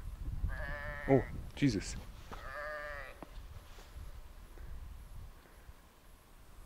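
Sheep bleat on an Alpine mountain pass along a high trail in Italy, several short calls close together early on, with a person speaking briefly over faint outdoor background.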